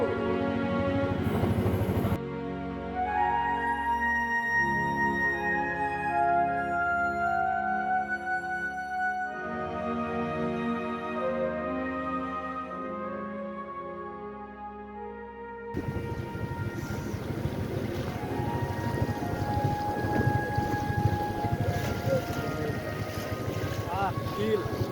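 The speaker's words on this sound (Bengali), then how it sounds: "আমাদের ট্রলারটি স্টার্ট হয়ে গেছে," A trawler boat engine runs on a hilly river, a steady low droning hum with wind buffeting the microphone, joined by louder broadband rushing noise in the final stretch.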